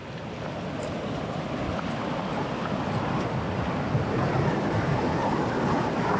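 Ocean waves washing against a rocky South African shoreline, a continuous loud broadband wash with no distinct breaks, steady and close throughout.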